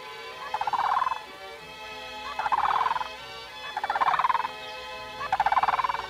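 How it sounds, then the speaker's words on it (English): Sandhill crane giving four loud, rolling calls outdoors in open country, each burst lasting under a second and evenly spaced about every one and a half seconds, with no talking. "Now, there's one of the fascinating birds that you'll see up here, a sandhill crane."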